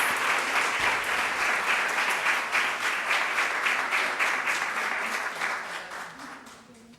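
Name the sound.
audience applause welcoming speaker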